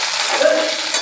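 Chillies and garlic frying in a tadka for matar paneer, a close, bright sizzle with stirring scrapes, steady over one brief second.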